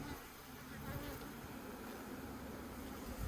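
A steady, dense buzzing of many honey bees at a split nucleus hive, continuous and fairly close, with a low hum underneath and no voices.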